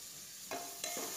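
Tomatoes are stirred into frying masala and oil, a soft sizzle broken by two quick scraping strokes of a spoon in the pan, close up, without voices.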